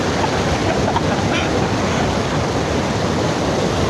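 Strong water current rushing at Samariña Dam in Brook's Point, Palawan, a steady broadband roar of flowing water close by and loud throughout, with no break or clear speech over it.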